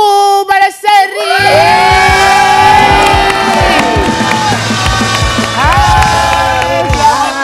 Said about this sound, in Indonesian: Pemirsa, boleh kita minta tepuk tangannya untuk Mbok Barbie Kumalasari.